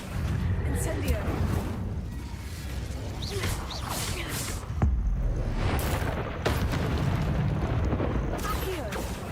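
Incendio fire spell cast in the Hogwarts Legacy video game: loud, dense whooshing roars of flame in repeated bursts, with a sharp boom near the middle, over a busy game soundscape with a voice present.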